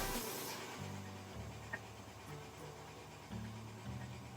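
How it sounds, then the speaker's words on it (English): An air compressor runs in the background, faint and steady, with a low droning hum that pulses in slow cycles and a few light knocks. No one speaks. "And as you can hear the compressor in the background"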